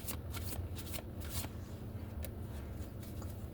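Oracle cards being shuffled by hand, a dense papery riffling and sliding that comes in quick bursts, close and fairly quiet, with no talking.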